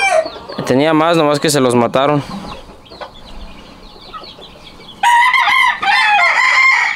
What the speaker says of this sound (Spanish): Aquí todos están a gusto, los pollitos y la gallina con él.